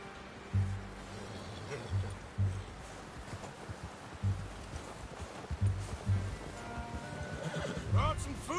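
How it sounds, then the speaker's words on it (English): In the video game Red Dead Redemption, a horse whinnies several times over muffled hoof clops and rustling at a camp. Background voices murmur underneath, and a louder whinny rises near the end. "You should really tether that horse,"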